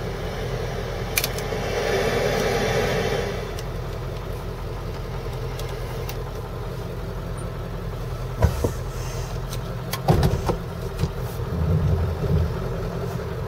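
A 1996 Ford F-250 extended cab 4x4 pickup with a 7.3 litre turbo diesel idles steadily, a constant low rumble and clatter, with a few brief knocks and clunks nearby toward the end.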